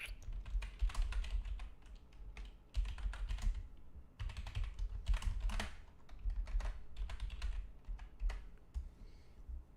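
Typing on a computer keyboard, close and crisp, with rapid bursts of key clicks broken by short pauses and a few heavier keystrokes, no talking.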